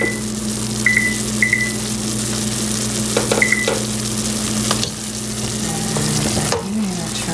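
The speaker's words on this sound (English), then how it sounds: "here comes some boiling" Pomegranate jelly boils in a pot on the stove with a steady, loud bubbling sizzle, a constant low hum beneath, a few faint beeps and small clinks of stirring.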